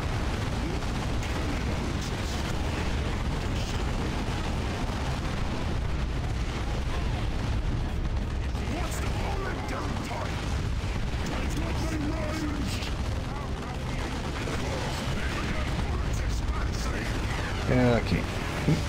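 Grenade blasts in the Warhammer 40K strategy game Dawn of War 2 Retribution, with Ork forces, form a dense, continuous battle rumble of booms and crackling gunfire, with a voice talking over it throughout.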